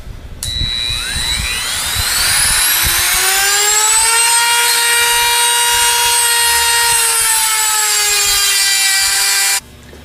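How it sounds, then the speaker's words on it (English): A rotary cutting tool grinds through the outer bearing race of a Valeo alternator, making a loud, sustained, high whine that rises in pitch as it spins up, then holds steady for several seconds before stopping abruptly. "We're going to turn it to the other side and cut the other outside half of the race."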